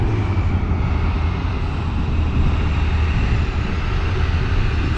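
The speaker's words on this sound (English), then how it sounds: "Now we're lining up the truck for the photo shoot." A truck idles and creeps as it is maneuvered into position for a photo shoot, its engine giving a loud, steady low rumble throughout with no talking.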